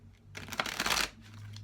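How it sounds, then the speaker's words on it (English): A deck of oracle cards is shuffled once up close, a quick papery riffle lasting under a second before fading to quiet. "If you're wondering why I shuffle so much"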